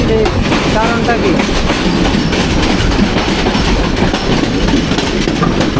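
The Agnibina Express on the Mymensingh–Dhaka line rolls past at night, loud and close, with a continuous rumble and rhythmic clacking of wheels over rail joints that fills the whole stretch.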